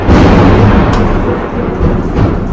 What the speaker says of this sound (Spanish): aquí en Cuerna está una tormenta